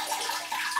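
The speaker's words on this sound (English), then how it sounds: "So I fill the jar with water, carefully hold my hand over it, and tip it all out." Water is tipped out of a glass jar after soaking a Phalaenopsis orchid in a kitchen, giving a brief, soft steady pour and splash.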